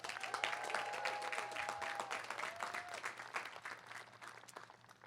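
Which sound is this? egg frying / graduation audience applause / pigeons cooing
graduation audience applause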